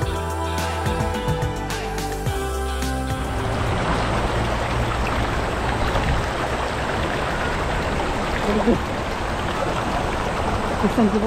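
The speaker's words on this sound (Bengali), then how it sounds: "প্রচুর পরিমাণ পানি অনেক ঝর্ণা।" A mountain waterfall in Korea pours heavy volumes of water, giving a dense, steady rushing roar that fills the whole stretch at constant loudness, with a few tonal sounds layered over it in the first few seconds.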